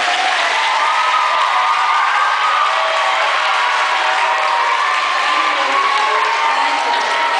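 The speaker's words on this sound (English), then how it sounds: "Let's give them a round of applause." A school spelling bee audience applauds and cheers the competing students, a steady, loud wash of clapping and crowd noise with scattered whoops and shouts throughout.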